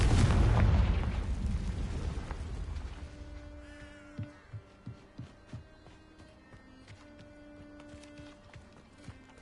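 A Confringo fire spell explodes in Hogwarts Legacy with a loud, close boom that decays over a few seconds, followed by a string of faint, evenly spaced light pops and clicks over quiet tonal game ambience.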